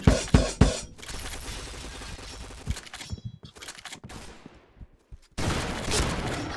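Gunfire in the Point Blank online shooter: a few loud sharp shots, then rapid bursts of automatic fire with brief pauses, and a heavy sustained volley at the end, with no talking.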